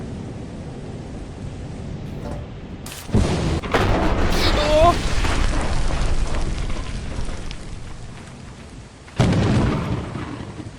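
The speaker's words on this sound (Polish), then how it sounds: "niech to walnie piorun no, najpierw." Lightning strikes during a stormy moon run in the co-op game Lethal Company: sharp loud cracks followed by long rumbling thunder, with a second crack near the end, under ongoing rough background noise.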